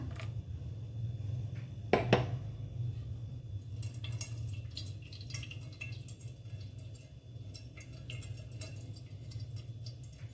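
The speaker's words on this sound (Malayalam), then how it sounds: "ഞാൻ ഈ മിക്സിയിലിട്ട് ഇതിലേക്ക് ഒഴിക്കുകയാണ്" Buttermilk blended with gooseberry and hog plum trickles steadily through a strainer into a mixer jar, a soft continuous liquid pour with a sharp clink of the strainer near the start and scattered kitchen clatter, no talking.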